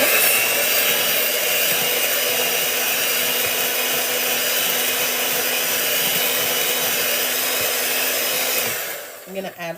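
An electric mixer whirs in a steady, loud drone while it beats pineapple upside-down cake batter with milk, then winds down and stops near the end with a few soft clatters.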